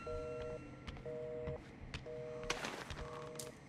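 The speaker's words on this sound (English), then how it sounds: "I can just hear the dial tone." A quiet, steady telephone dial tone in the game Outlast: Whistleblower pulses on and off in regular beeps, faint beneath low background noise.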